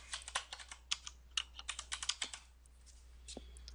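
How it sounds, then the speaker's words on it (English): Rapid, uneven clicking of keys on a computer keyboard, with a dense burst of keystrokes, a brief pause, then a few final taps, close and fairly quiet. "by typing your disease into the search box"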